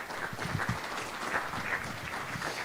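Conference audience at a sports business summit claps for speakers being introduced, a fairly quiet, even patter of many hands that continues steadily throughout, with no talking over it.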